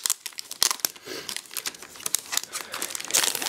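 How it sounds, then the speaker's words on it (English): Plastic wrapping around a Sony S1 tablet crinkles and crackles up close in a run of sharp, uneven bursts as it is pulled open, with no talking. "Let's get it out of this plastic."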